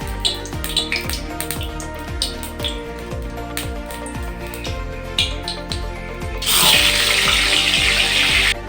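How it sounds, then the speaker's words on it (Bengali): A rohu fish head coated in salt and turmeric goes into hot oil, and a loud, close, broad hissing sizzle starts late and carries on to the end after a stretch of squeaky, chirping sounds. "আগে থেকে নুন হলুদ মাখিয়ে রাখা এই মাছের মাথাটাকে আমি তেলে ভেজে নেব।"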